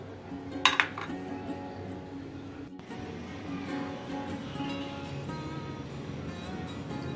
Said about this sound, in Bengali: আমি একটা কড়াই বসিয়ে দিয়েছি, এটাতে আমি বিস্কুটটা বেক করব।